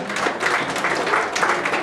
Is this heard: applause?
yes